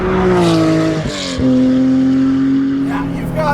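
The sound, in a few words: Guntherwerks Porsche 400R air-cooled engine hot rod idle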